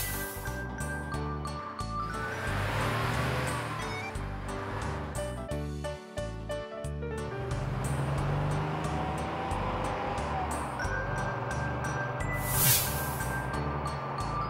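A car driving past, a steady engine and road rumble with some musical tones mixed in, continuous and fairly loud throughout.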